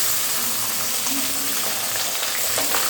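Precooked rice tipped onto fried spices in hot ghee and oil for Bengali-style fried rice, giving a loud, dense, continuous sizzle close by for a few seconds.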